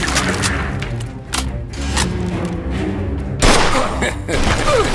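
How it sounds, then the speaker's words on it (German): Gunfire in the Mafia 2 video game during a firefight with enemies shooting from above: dense, continuous loud shots and impacts with a heavy low rumble, a sharper burst near the end, under game dialogue. "sie schießen von oben!"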